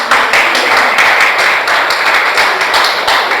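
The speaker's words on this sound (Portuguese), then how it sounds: "Dá uma salva de palmas para Jesus." Loud, dense clapping from a church congregation, continuous and enthusiastic for several seconds with no voices.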